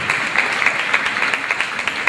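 Audience applause for presenters at a dance competition presentation ceremony, a steady wash of many hands clapping with small irregular bursts, moderately loud and continuous throughout.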